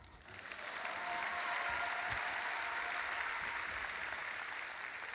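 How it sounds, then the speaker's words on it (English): A university senior celebration audience breaks into sustained applause, swelling within the first second and holding at a steady, full-room level to the end, with no voices over it. "You can clap."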